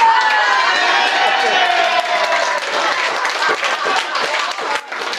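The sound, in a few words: wedding guests cheering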